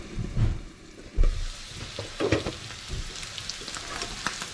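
Bitter gourd frying in a pan for a Bengali korola bhaji, a steady close sizzle with a few louder stirring scrapes and bumps, no voices over it.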